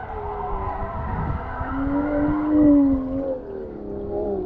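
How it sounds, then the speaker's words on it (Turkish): Cars drifting on a nearby road, tires screeching in long, wavering squeals over a low engine rumble, moderately distant and continuous with no voices. "Sesler geliyor mu bilmiyorum ama adamlar drift yapıyor"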